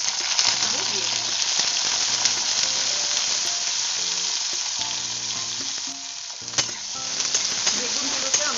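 Eggplant pieces dropped into hot oil with five-spice seeds, frying with a loud, dense, continuous sizzle close by, punctuated by stirring scrapes and a sharp clatter near the end.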